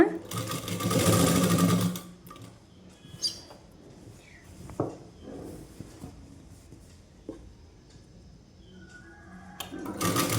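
A sewing machine stitches a petticoat in a short, loud burst at the start and again briefly at the end, with quieter handling noises and light clicks in between.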